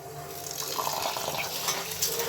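Thick beaten rice (avalakki) is washed in water, a close, steady sloshing and swishing lasting a couple of seconds with no talking.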